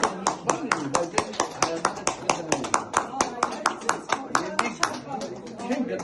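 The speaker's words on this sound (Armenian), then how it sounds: "Վերը երրորդ անգամ ծափահարենք, բոլորս։" An audience at a public talk claps together in a steady, rhythmic beat, with many sharp, evenly spaced claps that continue throughout at close, loud range.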